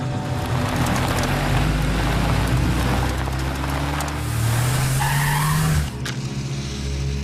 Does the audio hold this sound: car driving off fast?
yes